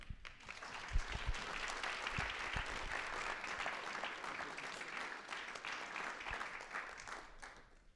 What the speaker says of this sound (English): Could we have another round of applause for him, please?